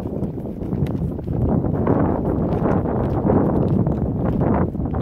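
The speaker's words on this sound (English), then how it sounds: "Cold, windy day." Steady gusts of cold wind buffet the microphone in a cemetery, a continuous low roaring rumble with brief swells, outdoors and no voices.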